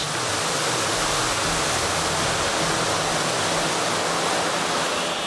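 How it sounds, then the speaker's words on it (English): An aircraft hangar's ceiling-mounted foam fire suppression system discharging high-expansion foam through large bucket-sized nozzles, a loud, constant rushing roar like a waterfall filling the space, with no voices. "large bucket-sized nozzles in the ceiling disperse the foam across a wide area of the hangar"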